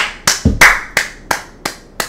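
Hands clap sharply seven times in a slightly uneven rhythm, close and crisp, with no talking.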